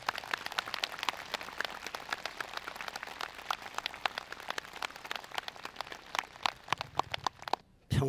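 An audience claps steadily to welcome a Korean Seon master onto the stage at a DMZ world peace meditation event, a dense crowd applause that thins out and stops near the end.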